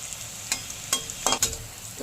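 Poppy-seed coconut fritters crackle in a frying pan, with a spatula clinking and scraping against the metal several times in quick succession over the constant sizzle.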